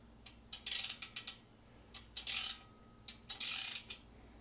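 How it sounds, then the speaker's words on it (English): A ratchet wrench tightens bolts on a Harbor Freight Pittsburgh engine crane in close, crisp bursts of rapid clicking, with short pauses between strokes. "This is a ratchet wrench"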